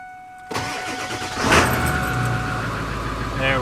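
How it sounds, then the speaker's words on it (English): A truck engine starts and settles into a steady idle as it warms up, a continuous mid-pitched rumble close by that fills the whole stretch, with a brief catch as it fires and a voice briefly talking near the end. "We got the truck warming up"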